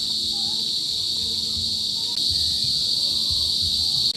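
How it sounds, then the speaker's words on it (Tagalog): Crickets and other night insects at a nature resort drone in a steady high, continuous chirring, moderately loud and unbroken throughout, with faint low ambient rumble beneath. "Naririnig ko na yung mga insekto or mga kuliglig."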